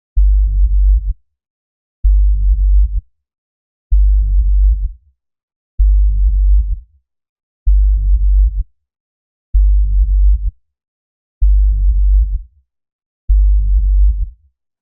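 Eight evenly spaced deep sub-bass notes pulse at a steady rhythm, each about a second long and ending in a short smeared reverb tail before the silence between hits.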